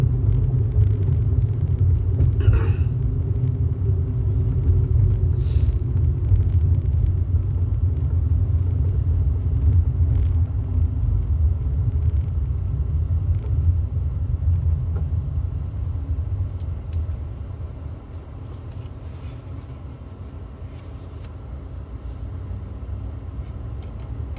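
Steady low rumble of road traffic passing on a residential street in a school zone, a continuous drone of cars from near to mid distance that eases slightly toward the end, with no talking.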